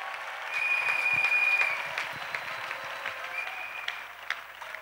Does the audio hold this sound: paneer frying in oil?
no